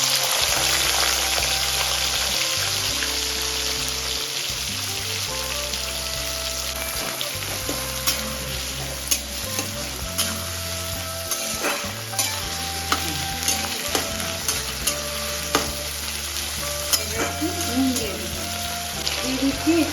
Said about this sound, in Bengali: ওই তেলের মধ্যে মা দিয়ে দেবে এবার পেঁয়াজ কুচি।